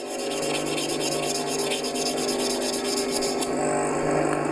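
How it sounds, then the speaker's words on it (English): A spindle gouge flute being honed by hand with 240 grit abrasive, producing a continuous close-up rubbing and sanding rasp with rhythmic back-and-forth strokes and no voices. "Now I've got a bit of 240 grit here, and I can just hone the flute out"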